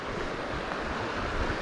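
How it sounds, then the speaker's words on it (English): Rough water rushing over a creek point during a fishing outing, a dense, steady broadband wash that stays loud and even throughout with no voices. "We made our way this little point here where the water gets super rough."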